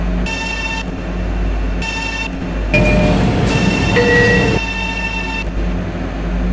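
A train sits idling at a station, with a steady low hum and whining electrical tones, and a louder hissing, rumbling stretch in the middle.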